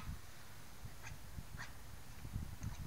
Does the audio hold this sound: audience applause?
no